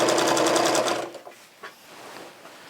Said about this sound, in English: Then I just keep stitching down the right side of the quilt like this.